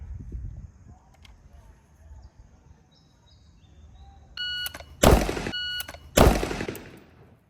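Two loud, sharp gunshots fired at a shooting range target, about a second apart, preceded by a brief electronic beeping and quiet ambient noise.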